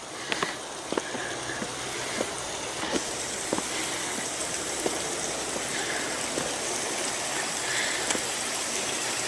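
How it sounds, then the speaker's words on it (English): Spring water pours out of a culvert in a railway abutment above Cameron Lake in October and runs over rocks, making a steady, close rushing splash with a few faint clicks on top. "Here's the sound of running water."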